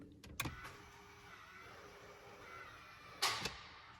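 A 4WD transfer case on a Holden Rodeo shifting into 4 low: a short mechanical clunk, then a long steady whirring hum, ending in another louder clunk, close and fairly quiet.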